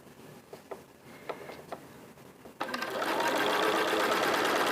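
A sewing machine stitching fabric strips for a hat crown starts with a few separate clicks and short bursts, then runs into a loud, steady, continuous whir close by.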